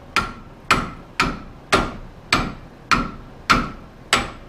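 Hammer striking a wrench on a 1997 Ford Mustang SN-95 during suspension lowering work, eight sharp metallic blows at a steady, even rhythm, close and loud.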